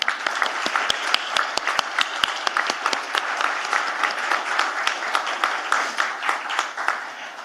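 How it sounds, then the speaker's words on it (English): Applause from the audience at a legal conference closing ceremony, dense steady clapping with sharp individual claps standing out, moderately loud and sustained throughout. "A big round of applause to him"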